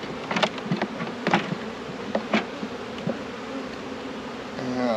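Honey bees buzzing around a hive during early spring splits, a steady close hum of many insects with individual bees droning louder as they pass near.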